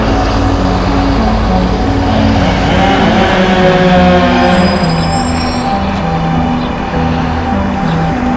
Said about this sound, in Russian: Это автобус трех человек везет.